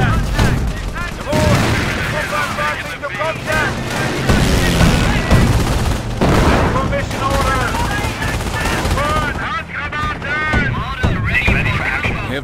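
Enemy infantry firing in a World War II real-time strategy battle from Company of Heroes: Tales of Valor, Market Garden mission, a dense continuous clatter of machine-gun and rifle fire with booms, under soldiers' shouted voice lines.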